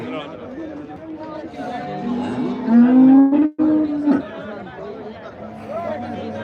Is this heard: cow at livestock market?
yes